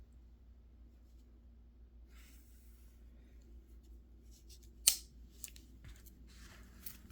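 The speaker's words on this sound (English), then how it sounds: "We have both scissors" Victorinox Swiss Army knife scissors, from the Super Tinker and Farmer X models, handled close up: faint rubbing and scraping, then a sharp metallic snip near the middle followed by a few lighter clicks.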